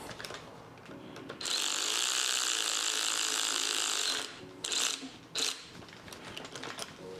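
A power tool runs steadily for about three seconds as a bolt is tightened, then gives two short bursts, with ratcheting clicks and mechanical clatter around it, close and fairly loud.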